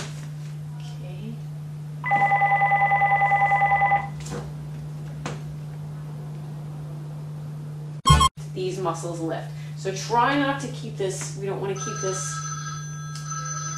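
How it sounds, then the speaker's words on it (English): A telephone rings for about two seconds in a steady electronic burst during a ballet lesson on the relevé, then an instructor talks over the room's constant low hum. "bring, bring, bring, bring, and that's my phone"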